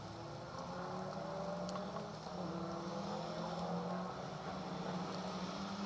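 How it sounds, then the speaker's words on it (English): A Group A Subaru rally car's boxer engine with 1990s anti-lag drones steadily and loudly through the night at a historic rally festival at Weston Park, Staffordshire, with a few faint crackles over the constant roar. "the Group A sounding soundtrack of that boxer engine inside the Subaru with this 90s anti-lag firing into the night sky"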